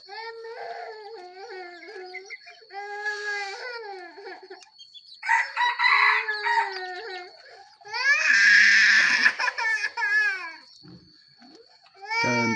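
Rooster crowing at a Hmong village flock, several drawn-out calls in a row, fairly loud and close, with other fowl noise between them.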